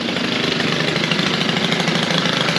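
An older Stihl FS90R string trimmer engine runs steadily and loudly close by, a dense buzzing drone held at constant speed throughout.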